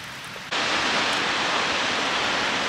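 Waterfall at Silver Falls State Park, a broad constant roar of falling water that suddenly swells to full loudness after a quieter start and holds steady.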